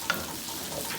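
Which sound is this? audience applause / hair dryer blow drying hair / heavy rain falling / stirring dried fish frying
stirring dried fish frying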